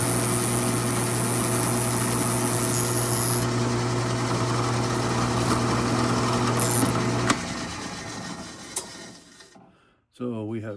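A 1/4-inch electric drill bores a hole in hand-carved cedar wood for a bird figure, producing a steady high-pitched motor whine that winds down and stops near the end.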